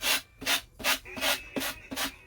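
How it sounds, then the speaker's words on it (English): Sandpaper rubs paper off a Christmas craft sign in six or seven even, rhythmic strokes, close and crisp, with no talking. "And there's sanding the paper off."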